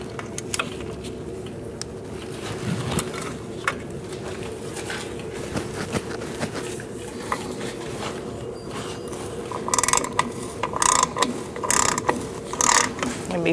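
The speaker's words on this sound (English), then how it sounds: "we're going to take out these two bolts. We're going to do that with an 8mm socket." A ratchet with an 8mm socket clicks rapidly while loosening bolts on a 2004-2012 Chevrolet Colorado during a wheel cylinder replacement, with the clicking growing louder and more distinct toward the end.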